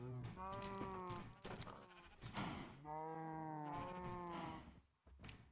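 Sheep in the Minecraft video game bleating several times in a row, clear wavering cries close by with short gaps between them, no talk over them.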